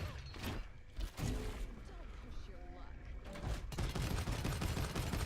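Khan's weapon in the video game Paladins fires in rapid bursts, dense crackling volleys that are loud and close, broken by brief gaps, with someone talking over them.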